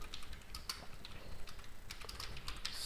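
A computer keyboard clatters as text is typed onto a PowerPoint slide, with irregular quick keystroke clicks up close and no talking.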